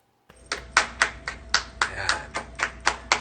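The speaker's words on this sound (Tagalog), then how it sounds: "Palakpak, palakpak, clap, clap, clap," A steady run of about ten sharp hand claps, close and fairly loud, evenly spaced with no talking.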